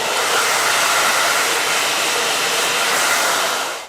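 A hair dryer roars steadily and loudly at close range while hair is blow-dried with a round brush, an unbroken rush of air that cuts off at the very end.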